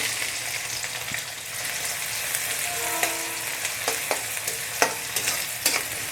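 Two large, finely chopped onions fry in hot oil in a kadhai, giving a steady close crackling sizzle with occasional sharp scrapes and clinks as they are stirred.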